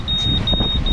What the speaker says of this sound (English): like an alarm's going off